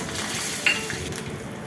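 Mustard seeds pop and splutter in hot oil while tempering for rava dhokla, a close, steady crackling sizzle with a few sharper pops and no voices.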